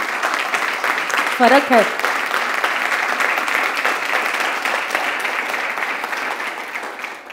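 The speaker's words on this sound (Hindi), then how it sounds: "ये तालियां प्रेम के कारण ही बच सकती है" Steady audience applause fills a satsang hall, dense and continuous throughout, with a brief spoken voice cutting in near the start over the clapping.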